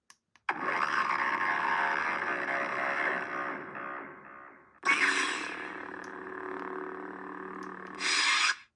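Dooku Neopixel lightsaber's broken ignition effect: a loud, buzzing, sputtering hum that stutters, drops briefly, then surges back with a crackling burst at the end.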